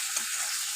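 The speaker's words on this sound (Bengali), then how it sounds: "এই দিয়ে মশলাটা তো আমি কষাচ্ছি" Koi fish curry masala sizzles as it is stirred and sautéed in an iron wok, a steady close frying hiss lasting under a second with no talk.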